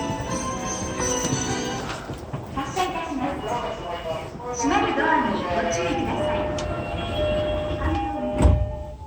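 Sliding doors closing on a JR East E231 series 800 commuter train on the Tokyo Metro Tozai Line, with a clunk near the end amid steady cabin hum and a recorded announcement playing over it.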